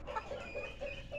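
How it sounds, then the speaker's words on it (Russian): Ameraucana hens, long-legged and bearded, giving a series of soft, evenly spaced clucks, faint and close, with no talking. "Бесподобные куры, длинноногие, бородатые, шикарные."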